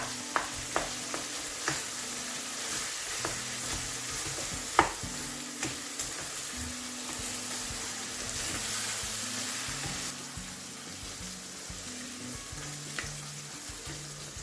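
Lamb and chicken mince karahi frying in a pan, a steady close sizzle with scattered spoon taps and stirring scrapes, continuous and without talk.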